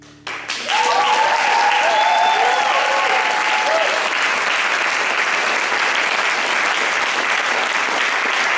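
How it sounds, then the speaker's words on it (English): Applause from the audience after a song at a college international variety show, bursting in suddenly and holding as a loud, dense, sustained clapping, with a brief trailing vocal note from the performer at the start. "Can we have another round of applause, please, for Natasha, for the way she sang that?"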